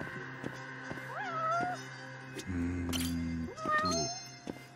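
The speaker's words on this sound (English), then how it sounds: "Oh man, there's the cat." Cat meowing inside the video game Judgment, two rising, tonal meows close by over steady game background music and ambience.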